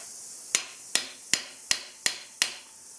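Six evenly spaced, sharp taps knock Fox fork lowers off the stanchions on a bicycle, each hit crisp and close with a brief ringing decay over a steady background hiss.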